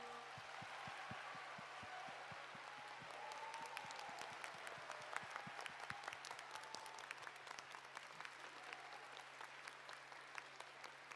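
Sustained applause from a large crowd at a church Christmas celebration, steady clapping throughout, somewhat distant and fairly quiet.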